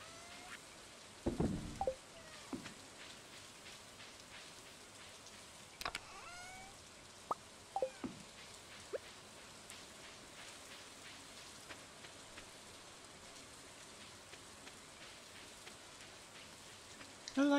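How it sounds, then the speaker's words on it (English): Rain falls in the Stardew Valley farming video game as a steady, soft hiss throughout, with scattered faint clicks and a few louder taps along the way. "I like rainy days."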